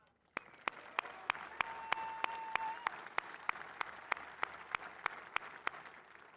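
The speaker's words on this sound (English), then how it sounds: "Let's give a round of applause to the men and women who made this happen." Applause for Marines and sailors at a Camp Pendleton military event, steady moderate clapping from a crowd punctuated by sharp regular percussive hits, with a faint sustained tone partway through.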